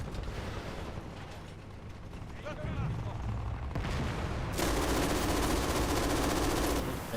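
A voice imitates MG42 machine gun fire during a video game stream, spitting out loud, rapid, continuous bursts close to the microphone.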